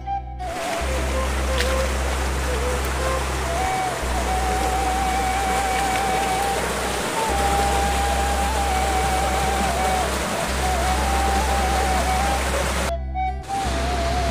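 Heavy rain falls steadily near the headwaters of the Cikaengan River in Indonesia, a dense, unbroken hiss that stays loud and constant throughout.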